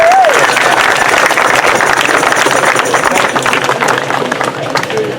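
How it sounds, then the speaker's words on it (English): An outdoor protest rally crowd claps and cheers loudly, dense applause that gradually fades toward the end, with a brief whistle near the start. "If we can give a round of applause in"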